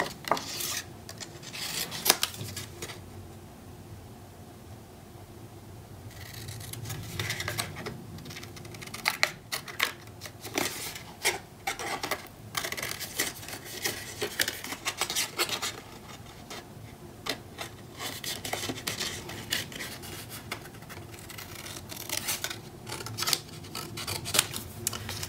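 Scissors snip paper for a mini scrapbook album in many short close cuts and rustles, an uneven run of crisp clicks over a quiet room, with no one speaking.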